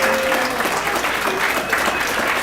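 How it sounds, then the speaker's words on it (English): Dense, steady applause from an audience at a cohort promotion ceremony, a continuous loud wash of many hands clapping with faint voices mixed in. "just give it one more round of applause for everybody"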